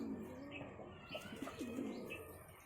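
Pigeons at a pigeon seller's in Nagpur, several soft throaty coos and a few faint chirps overlapping at close range against a quiet background.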